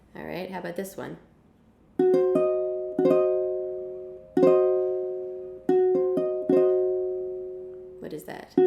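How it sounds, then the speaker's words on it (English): A piano plays a diminished chord built from flat fifth, root and flat third, heard as a series of struck notes and chords that ring out and decay, with talk before and after. "That is a diminished chord. Flat fifth, root, flat third."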